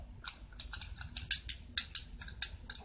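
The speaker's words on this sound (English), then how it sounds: "it's really noisy. I like noisy stuff, and it's satisfying and just really clicky and stuff" Sharp clicks from a fidget cube's buttons and switch, a quick irregular run of crisp snaps, close and fairly quiet with no talking.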